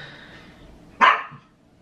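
A single sharp dog bark cuts in after faint background hum, fairly close and loud, decaying quickly, with no talking.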